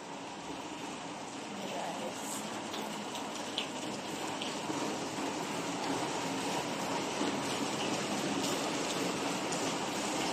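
Rain falls steadily on an afternoon at a waterfront hotel in Davao City where coconut trees grow, a constant wide hiss of drops on surfaces that holds at an even, moderate level with no one talking.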